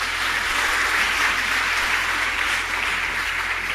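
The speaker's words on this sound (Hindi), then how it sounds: "अगर आपको गौरव लगे तो ताली बजाना।" Audience applause at a Hindi speech on Jain history fills the whole stretch, a dense, steady wash of many hands clapping at even loudness with no voices over it.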